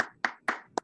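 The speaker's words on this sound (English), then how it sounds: "give her a round of applause" Clapping during a Zoom education class, four sharp separate hand claps in under a second, close and fairly quiet, with no voices.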